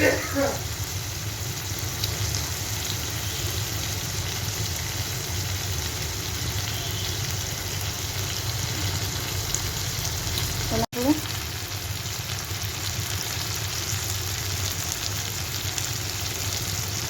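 Egg curry masala sizzles steadily in a pan while being sautéed, a continuous loud frying hiss with a brief stirring scrape near the end.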